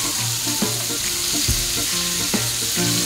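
Rava-coated bombil (Bombay duck) fish fries in a pan with a loud, steady, close sizzle and crackle, uninterrupted and without talking.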